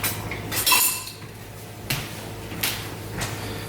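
A spatula scrapes and clinks against a bowl while mixing seasoning for vegetable flatbread, a handful of sharp utensil knocks spaced irregularly over a quiet kitchen hum, close-up.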